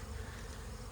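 A continuous, close drone of many honeybees at an opened summer hive, dense and even throughout with no talking.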